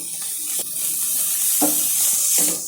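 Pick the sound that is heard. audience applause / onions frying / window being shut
onions frying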